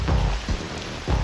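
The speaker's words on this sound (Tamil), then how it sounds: "என்னடா சூரிய பிரகாஷ், இந்த நடுராத்திரியில அதுவும் கொற்ற மழையில நீ என்ன சும்மா ஷூட் பண்ணி விளையாடுறியா?" Heavy rain pours at midnight in a movie scene, a dense, loud, continuous hiss broken by a few low rumbling thumps.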